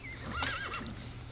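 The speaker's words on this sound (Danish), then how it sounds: "Der var en hest." A single horse neighs in the video game CS:GO, a clear rising-and-falling whinny close by over a low steady background hum.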